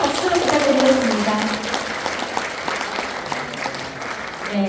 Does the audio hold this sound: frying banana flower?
no